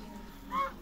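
A goose at a farmyard enclosure in Almaty, Kazakhstan, gives a single short nasal honk up close, with faint background murmur before it.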